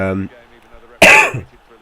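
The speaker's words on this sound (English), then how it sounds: "I apologise for all the coughing" A single sharp cough from an ill person, loud and close, follows the tail of a voice and a brief quiet pause.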